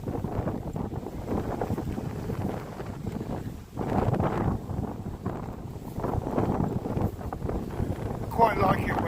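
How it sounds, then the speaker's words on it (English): Wind gusting outdoors on a blustery day, a steady roaring rush that buffets the microphone and swells and dips throughout, loud and close. "Wind's quite busy, like"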